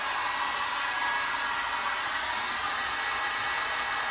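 Hot air gun running steadily at close range, a continuous loud broadband whoosh and whine that holds without a break and has no talk over it.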